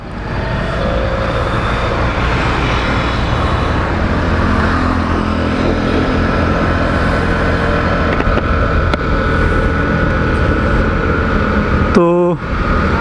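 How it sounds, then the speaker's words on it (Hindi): A TVS Scooty Pep Plus BS6 scooter being ridden, its engine giving a steady loud drone mixed with wind rush, then a brief rattling burst near the end. "तो चलिए चलाते हैं स्कूटर को और देखते हैं कैसा इसका परफॉर्मेंस है।"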